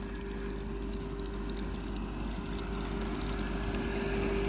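A 3 HP motor set down in a farm well pumps water, giving a steady, unbroken rush of flowing water over a constant low mechanical hum, close and loud throughout.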